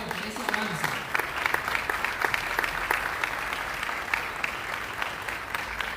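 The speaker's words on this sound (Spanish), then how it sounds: "Creo que merece un aplauso Nicaragua por ese avance." An audience at a university's opening ceremony for the school year in Nicaragua breaks into sustained applause, dense and fairly distant, and a voice can be heard faintly beneath it.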